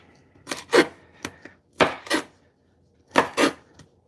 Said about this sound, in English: just chopping these into about 2 to 3 inch long pieces